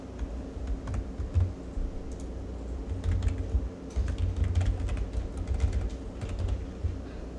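Typing on a computer keyboard while entering an email address, a steady run of close, light key clicks over a low background hum with no talking.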